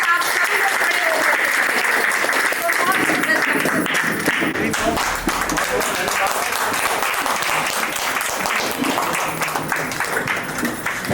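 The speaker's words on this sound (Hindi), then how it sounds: "फिर से मोस्ट वेलकम करते हैं सर को जोरदार तालियों के साथ।" A crowd gathered for the launch of a new franchise in Ayodhya gives loud, sustained applause to welcome a speaker, dense even clapping filling the room for several seconds.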